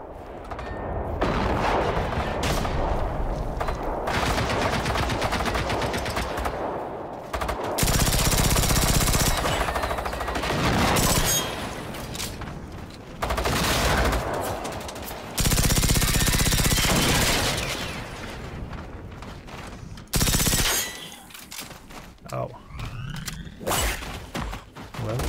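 Gunfire in the video game Generation Zero erupts in long, loud automatic bursts that stop and start through a tense firefight, with heavy, booming volleys between quieter gaps.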